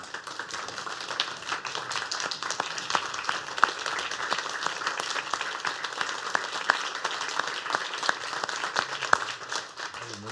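Standing audience applause at a county commissioners meeting, sustained clapping from a room full of people with individual sharp claps popping out, steady and fairly loud for about ten seconds.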